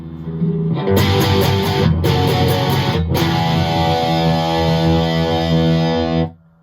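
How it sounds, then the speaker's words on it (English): A loud distorted electric guitar rings out sustained chords with a few quick strummed cuts, then cuts off abruptly near the end. "Now we have distortion, and obviously this is the classic rock and metal"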